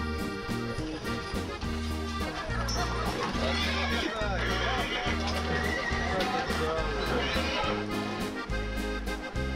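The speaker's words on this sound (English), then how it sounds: "Then we continued our horse and carriage ride, looking at buildings and hotels." Horse hooves clip-clopping steadily with occasional whinnies, set against constant music and background chatter, as during a carriage ride.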